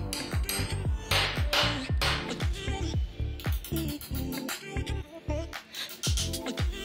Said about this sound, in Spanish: probemos introduciéndolos a golpe de martillo